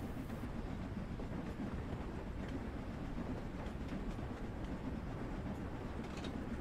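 A steam train runs along a West Coast local line with a steady rumbling roll and faint clicking of wheels on the rails, close and continuous.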